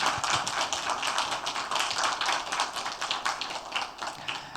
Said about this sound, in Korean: 박수로 우리 한번 위로했으면 좋겠습니다.